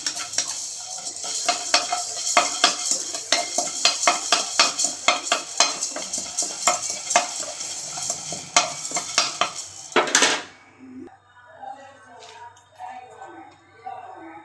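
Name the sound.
stirring and frying spices in a pan for country chicken curry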